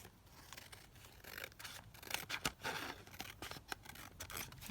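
Scissors trimming paper ephemera pieces cut from a master board, a quiet close series of irregular snipping and rustling cuts.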